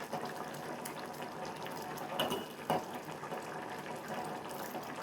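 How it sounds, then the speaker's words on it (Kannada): Vermicelli cooks in water for payasam, giving a continuous bubbling, sloshing sound at moderate loudness with a couple of slightly louder splashes midway, and no voices. "ನೋಡಿ, ಈಗ ಇದು ಚೆನ್ನಾಗಿ ಕುದೀತಾ ಇದೆ."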